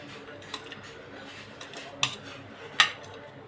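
A spoon scrapes and taps against a bowl while dry fruits are mixed into custard kheer, giving a few distinct clinks spaced out over soft, close stirring noise.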